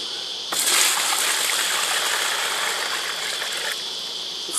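Steady broadband rush of water pouring into a tub, starting abruptly and running continuously at close range, with no voices.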